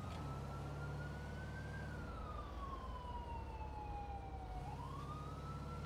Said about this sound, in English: Oh, dude, I'm hearing sirens.